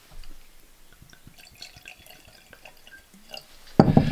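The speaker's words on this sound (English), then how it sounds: "after I've poured a wee dram" Deanston 18-year-old single cask whisky at 54.3% is poured into a glass, heard as a thin scatter of small drips and light glassy ticks, then a louder splash right at the end, with no one talking.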